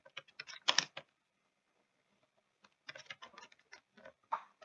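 Java code being typed on a computer keyboard: two short bursts of rapid, close key clicks separated by a quiet pause, with no talking.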